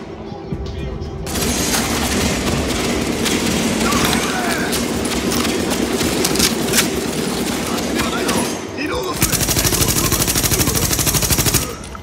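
Gunfire in the video game Tom Clancy's The Division: loud, sustained rapid automatic fire rattling almost continuously, with a brief break before another burst.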